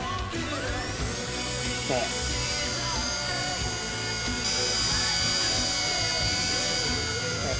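A JJRC F03 four-channel remote-control helicopter with altitude hold lifts off. Its rotor makes a loud, steady, high-pitched whirring buzz close by, with someone talking over it.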